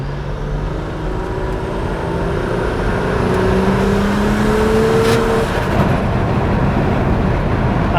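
A 578bhp Toyota Camry engine revs loud and close, its rising tone climbing through several sustained sweeps before tailing off.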